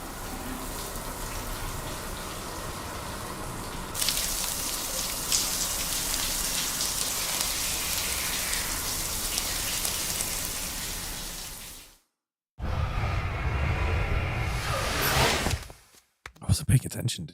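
Shower running in a video game, a steady hiss of spraying water that swells louder partway through, cuts out abruptly, then resumes before stopping again, close and continuous.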